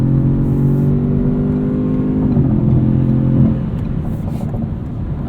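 A 2017 Ford Fusion Sport engine hums and revs steadily from inside the cabin, its pitch dropping between quick shifts in sport mode, with a brief fall in loudness after a gear change and no talking.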